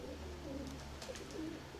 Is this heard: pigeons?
yes